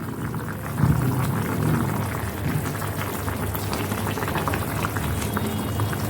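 Green mango simmers in a pot of water, a dense, continuous bubbling and burbling that stays loud and close for several seconds, with no talking.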